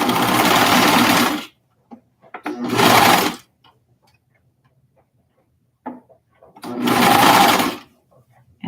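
A sewing machine stitches roller derby bralette fabric in two loud, steady bursts of whirring with quiet pauses between, during which small handling clicks are heard.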